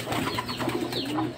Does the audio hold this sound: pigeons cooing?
yes